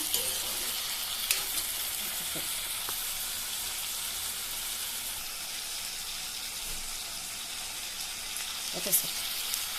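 Vegetables including brinjal fry in a pan with a steady, soft sizzle throughout, broken by a few faint clinks of a utensil.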